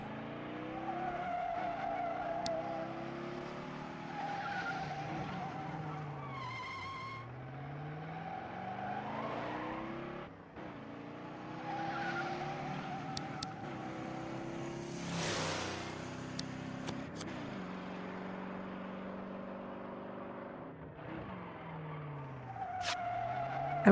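Race car engines roar and rise through gear changes while tires squeal and skid repeatedly in the racing video game Over the Alps, with sharp swelling screeches breaking over the steady engine drone.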